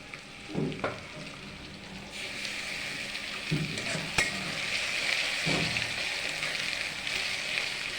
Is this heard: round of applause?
no